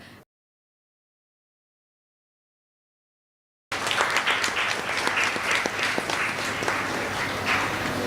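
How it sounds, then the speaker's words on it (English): Applause for a seminar award winner bursts in after a stretch of silence, with dense, steady clapping from the audience filling the rest of the moment at even loudness. "We would like to applaud both of you"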